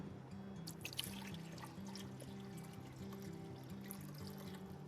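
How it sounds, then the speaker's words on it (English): Water pours into a buried terracotta olla pot in a garden, a soft close trickle with light dripping and gurgling, fairly quiet and uninterrupted. "fill it with water"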